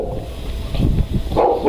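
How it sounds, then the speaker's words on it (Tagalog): A dog barks a few times close by, short sharp yaps broken by brief pauses, near the doorway of a house. "may aso"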